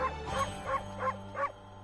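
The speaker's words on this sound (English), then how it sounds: "Oh, I'm barking at the wall." Cartoonish dog barks from the video game Ōkami, a run of five short, evenly spaced yips barked at a wall, fairly close and clear over a low steady game-music hum.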